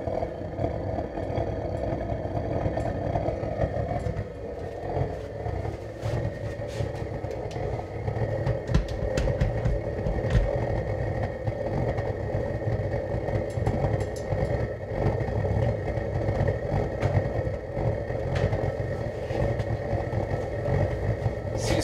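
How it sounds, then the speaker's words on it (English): A homemade gravity-drip waste-oil burner roars with a constant low rumble, overfed with oil, and scattered sharp pops and crackles break through as it backfires irregularly, close by, with no talking. "Some backfire because there's too much oil in there right now."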